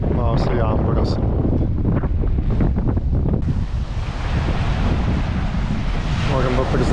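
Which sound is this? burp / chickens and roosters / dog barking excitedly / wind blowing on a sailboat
wind blowing on a sailboat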